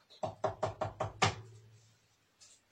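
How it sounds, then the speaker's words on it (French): A wolf knocks on the door of a wooden house in a three-little-pigs puppet show: five or six sharp, evenly spaced knocks, fairly close and clear, then a brief faint noise. "Il frappe à la porte."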